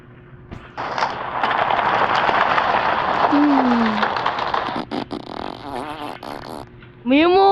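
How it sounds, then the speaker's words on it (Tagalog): A loud fart noise cuts in during a noisy game session between siblings, set against a dense, steady background of game sounds and voices. "May umutot dito."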